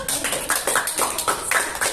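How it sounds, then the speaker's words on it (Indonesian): A classroom group claps for classmates who just presented, a steady rhythmic patter of many hands at close range, fairly loud and continuous for the whole stretch. "Beri tepuk tangan dulu"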